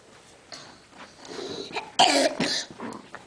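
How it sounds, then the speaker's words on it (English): A little boy at home coughs several times in short, rough bursts, the loudest coming as a harsh pair near the end, close and clear with light background noise. "Coughing."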